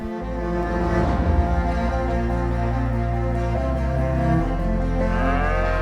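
Cattle low steadily on an open savanna in Sumbawa, a continuous near, loud drone of overlapping moos with no talking.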